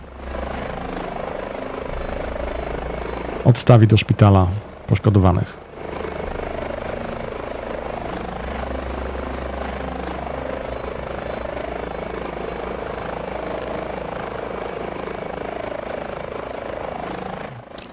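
An Airbus H145 helicopter in TOPR mountain-rescue livery runs with a steady, close turbine whine and rotor drone throughout, while a brief voice cuts in near the start.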